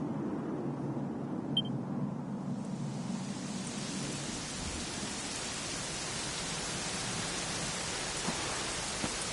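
Rain falls in a Dragon Quest XI scene, a steady hiss that starts muted and low, then swells after a couple of seconds into a full, even downpour that continues unbroken with no voices.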